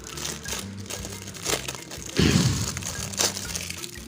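A symmetric 15-volt, 1-amp power supply for a mixer build is unwrapped from its packaging, giving close, steady plastic crinkling and crackling with a louder crunching burst partway through.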